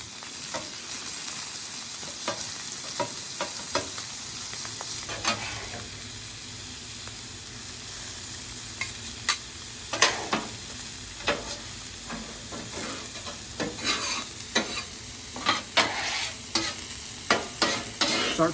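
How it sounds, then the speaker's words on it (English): Shrimp and garlic frying in a hot pan with a steady sizzle, broken by repeated sharp clanks and scrapes as everything is tossed, louder and more frequent toward the end, with no talk. "Right as that garlic starts to change, we're gonna put that shrimp right inside of it."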